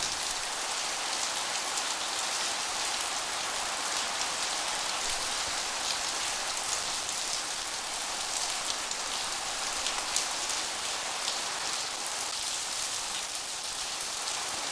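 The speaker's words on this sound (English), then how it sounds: "You can hear the intensity of the rain is intensifying." Heavy rain pours steadily at Incheon airport in Seoul, a dense, loud hiss of drops on surfaces that holds unbroken and close throughout, with no voices.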